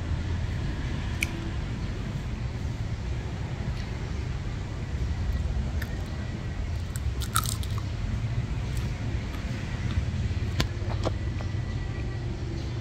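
Crunchy fried tarantula legs being bitten and chewed at a street food stall in Phnom Penh, Cambodia: steady close crunching over a constant outdoor background hum, with no talk.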